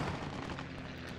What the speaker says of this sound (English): Mortars, grenades, artillery, tanks firing.